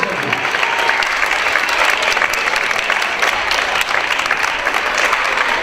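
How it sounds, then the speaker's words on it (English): A dense, even wash of applause from a theatre audience after the Sugar Skull show, with many hands clapping continuously at a steady level, mixed with faint crowd noise. "Thank you again. A round of applause."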